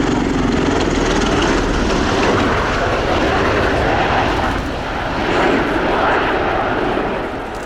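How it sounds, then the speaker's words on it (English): A USAF Bell Boeing CV-22B Osprey tiltrotor flies overhead at a flight demonstration, a loud, continuous roar of engines and rotors that swells slightly and persists throughout. "We'll shortly see the aircraft beginning to decelerate and convert to VTOL, vertical takeoff and landing mode."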